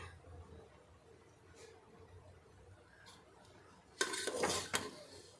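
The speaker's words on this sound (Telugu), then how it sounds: "ఇప్పుడు ఒక్కసారి మూత ఓపెన్ చేసి చూద్దామండి." Metal lid lifted off a cooking pot of gongura pulao, a sudden clattering scrape and clink of metal close by, following a quiet kitchen stretch with faint background noise.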